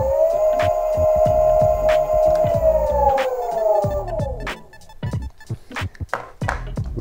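An electric skateboard motor driven to full throttle with a Meepo remote gives a loud, steady tonal whine that slowly drops in pitch and winds down after about four seconds, followed by scattered clicks and taps.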